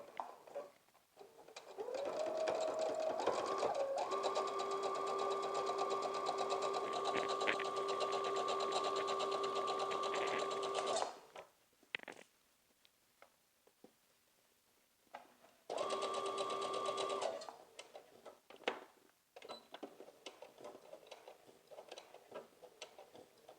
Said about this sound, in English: we're going to stitch from the bottom to the top